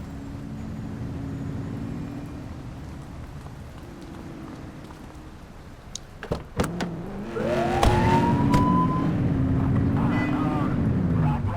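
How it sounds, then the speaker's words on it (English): A police car siren in the video game The Precinct gives a short rising whoop blip partway through, heard over a steady engine and road rumble that grows louder afterward. "Get on their tail and blip the siren."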